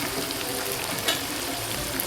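Minced meat keema fries in a pan with a dense, steady sizzle and crackle, close and fairly loud, and a brief stir partway through.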